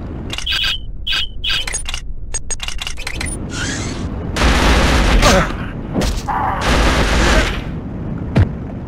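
Rapid bursts of ISA Chaingun fire and heavy explosions from the Killzone: Liberation video game, loud and close, with sharp repeated shots early and dense booming blasts and rumble later.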